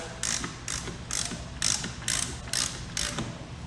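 Ratchet tightening main cap bolts on an all-wheel-drive transmission with a B16 gearbox, about seven quick rhythmic clicking strokes close up with no talking.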